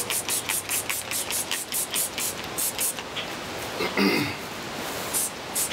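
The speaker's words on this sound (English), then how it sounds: "What I'm going to do now is rinse it all off." A garden hose sprays water against a Cruise Craft boat hull, rinsing away grease and sanding dust with a steady, close hiss that surges in pulsing bursts.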